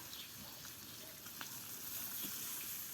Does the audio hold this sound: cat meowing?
no